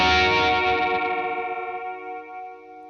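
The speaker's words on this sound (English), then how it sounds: "Now you got foot control over the amount of chorus that you're getting." An electric guitar chord rings through a Gamechanger Audio pedal set to a smooth chorus, with a gentle wavering shimmer as the sustained notes slowly fade out.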